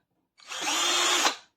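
An MHPRO 21V cordless hammer drill runs in one short burst of about a second, a bright steady whir that starts abruptly and winds down, close and alone.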